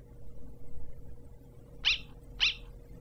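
Two short, high yips from a dog in the Undertale video game, spaced about half a second apart over a low, quiet background hum.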